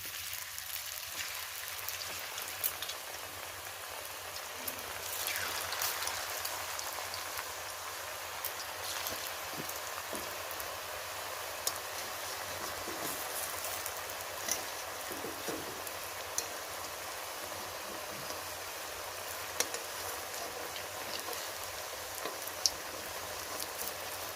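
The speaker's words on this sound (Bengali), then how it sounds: "তেলটা গরম হয়ে গেছে এবার অল্প অল্প করে আমি দিয়ে দেব পিঠেগুলো" Semolina chushi pithe frying in hot oil makes a long, even bubbling crackle like light rain, steady throughout and moderately quiet, with scattered small pops and faint handling clicks and no talking.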